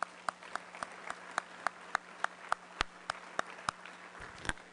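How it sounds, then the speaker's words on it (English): Scattered applause from a small audience at a Rotary Club of Denver meeting, a few hands clapping in sparse, fairly regular claps that stand out sharply over a quiet room hum. "Let's give all of them a round of applause as well."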